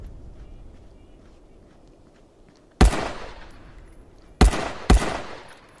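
Pistol shots in a VR shooting video game: a single sharp, loud report, then two more in quick succession, each trailing off into a short decay over a quiet background.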